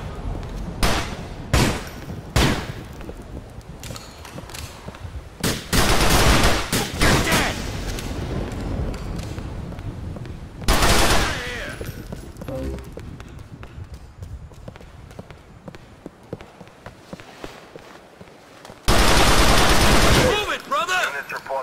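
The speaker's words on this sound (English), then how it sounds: "Shots fired, possible gang war" Gunfire in Grand Theft Auto IV: The Lost and Damned comes in several loud, separate bursts of rapid shooting, with quieter stretches of game ambience and some voices between them.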